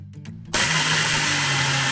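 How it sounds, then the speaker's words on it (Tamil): A mixer grinder switches on to grind adai batter with chilli, ginger and tomato, jumping from quiet to a loud, steady whirring roar that continues to the end. "எல்லா இன்க்ரீடியண்ட்டும் இப்போ போட்டுட்டு அரைக்க போகிறேன்"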